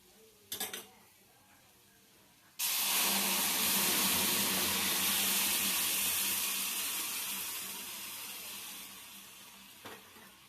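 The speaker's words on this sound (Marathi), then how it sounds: "आता मी ह्याच्यात टाकणार आहे आपण गरम केलेलं पाणी।" Hot water poured into roasted semolina in a pan for jaggery sheera, a sudden loud sizzling hiss that holds steady for several seconds and slowly fades, with a couple of brief clinks.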